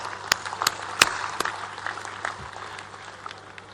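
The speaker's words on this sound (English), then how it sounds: "Let us give, my dear students, our leadership team a huge round of applause." Applause for the leadership team at a university convocation ceremony: a handful of sharp, scattered claps over a low crowd murmur that thins out after a couple of seconds.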